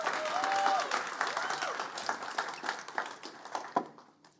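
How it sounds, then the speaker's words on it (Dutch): A church congregation applauds during a Sunday service, rapid scattered clapping that tapers toward the end, with a voice speaking briefly over it near the start. "Dus geef hem een groot applaus."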